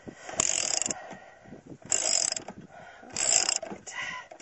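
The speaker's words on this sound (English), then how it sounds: "I replaced the breaking bar with a ratchet" A ratchet wrench turns the blade nut on a Craftsman 6.25 hp lawn mower, its rapid clicking coming in three loud bursts of about half a second each, with quieter pauses between them and no talking.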